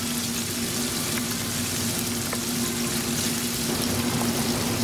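Octopus tempura frying in a pot of hot oil gives a steady, loud, close sizzle and bubbling hiss that runs unbroken throughout, with no talking.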